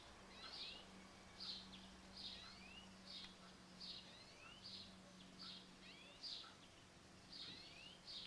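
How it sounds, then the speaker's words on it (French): Small birds chirp and twitter outdoors through an open window, short repeated calls every second or so at moderate distance, fairly faint over a low steady hum. "On entend les petits oiseaux."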